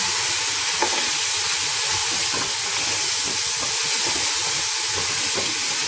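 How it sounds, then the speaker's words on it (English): Vegetables, paneer and cashew nuts sizzle while being sautéed for a restaurant-style vegetable biryani, a steady, loud, close frying hiss with occasional faint stirring scrapes. "and the paneer and cashew nuts, and just saute."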